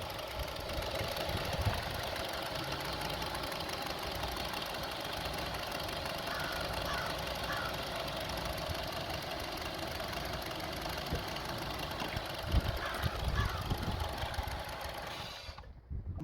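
A Honda CR-V engine idles roughly with the intake air temperature sensor disconnected, a close, steady mechanical drone with uneven knocking pulses and vibration, cutting off abruptly at the very end.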